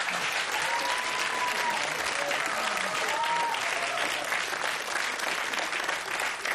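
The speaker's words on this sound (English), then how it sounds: "Give them a big round of applause" Sustained, loud applause from a television game show studio audience, steady dense clapping throughout with faint whoops and voices mixed in.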